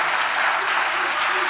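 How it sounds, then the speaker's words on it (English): A room full of guests at a Hall of Fame induction ceremony breaks into a dense, loud burst of applause, with voices blending into the clapping. "So, quick round of applause."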